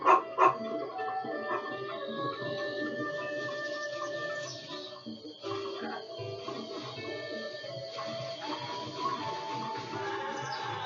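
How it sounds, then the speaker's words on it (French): Two quick dog barks open the passage in a Zelda video game, followed by continuous layered game music and ambient tones, with no talk. "Excuse-moi le chien."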